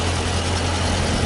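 A 2015 Dodge Challenger R/T Scat Pack's 6.4-liter, 392-cubic-inch Hemi V8 idles with a loud, steady low rumble, close and constant, no voices over it.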